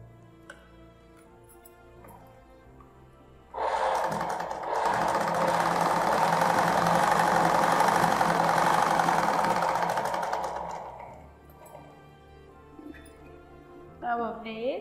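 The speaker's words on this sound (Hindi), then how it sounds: "बराबर मिला के यहाँ पे हम सीधी सिलाई लगाएंगे जिससे हमारा कपड़ा बराबर हो जाए" A sewing machine runs a straight stitch on blouse fabric, a loud, steady mechanical whir lasting several seconds. Quieter handling sounds come before and after it.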